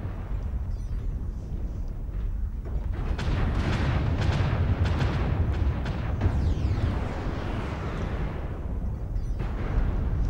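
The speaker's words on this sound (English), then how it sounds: "Artillery strike online." Heavy rumbling explosions from an artillery strike in the mech combat game MechWarrior Online, a dense low roar of overlapping blasts and booms, loud and continuous throughout.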